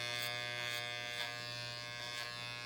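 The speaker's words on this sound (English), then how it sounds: "just so I can round it off with my clipper here" Electric hair clipper buzzing steadily and close while rounding off the corners of a fade haircut, a continuous motor drone with slight shifts as the blades move over the hair.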